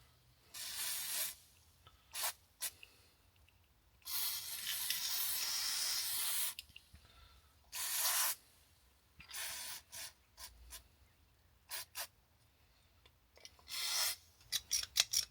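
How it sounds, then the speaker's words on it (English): Graphite oil spray is applied to a stiff car bonnet latch in short, loud hissing bursts of varying length, close up and separated by quiet gaps and small clicks. "It's a graphite oil spray."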